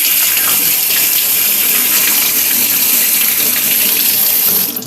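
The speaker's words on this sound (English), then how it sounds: "Let me just wash off my hands" Water gushes steadily from a kitchen tap into a sink while hands are rinsed, a loud, even, continuous stream throughout.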